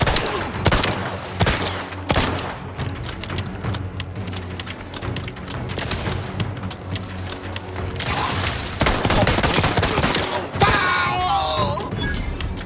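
Rapid automatic gunfire in the video game Outer Worlds 2, a dense sustained fusillade of sharp shots with mechanical clatter, loud and close, and brief in-game voice callouts mixed in near the end.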